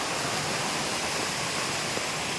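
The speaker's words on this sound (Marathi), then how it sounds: "पाणी बघा कधी जोरान वाहत कारण जुलै महिना आहे त्याच्यामुळं पाण्याचा प्रवाह जास्त असतो" Water rushes strongly through a paddy field channel in July, a dense, continuous roar that stays loud and even throughout, with no voices.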